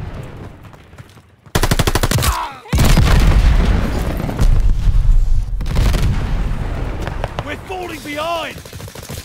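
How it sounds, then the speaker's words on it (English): Loud blasts and rapid gunfire in a Call of Duty: Vanguard battle, with a stun grenade burst cutting in sharply, then sustained dense shooting and rumbling explosions while voices call out over the chaos. "Stun grenade out."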